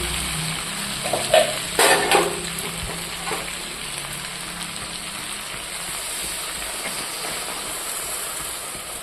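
Water poured into a hot pan of fried-down mutton curry sets off loud steaming and sizzling, with a few sharp bursts at first, then a steady hiss that settles and continues close by.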